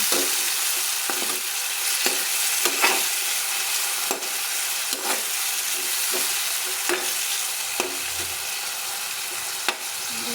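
Noodles frying in a pan with a steady broadband sizzle, punctuated by repeated scraping stirs at irregular intervals roughly every second, close and moderately loud with no talking.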